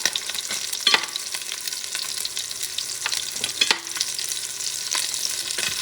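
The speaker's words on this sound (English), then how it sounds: "I'm going to cook that side for about 2 minutes" Duck meat sizzles steadily in an oily pan, a continuous close crackle with occasional louder pops and a few brief scraping touches throughout.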